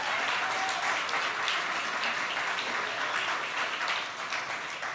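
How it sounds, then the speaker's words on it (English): Audience applause at the Standard Bank Young Artist Award ceremony, a sustained wash of many hands clapping that holds steady and tapers slightly toward the end. "A big round of applause to you."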